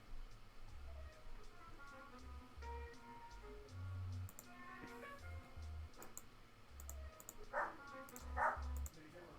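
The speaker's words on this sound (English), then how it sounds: "there goes my dogs" Dogs bark a few times in the background of a quiet room, faint bursts scattered among low ticking noises, with someone talking now and then.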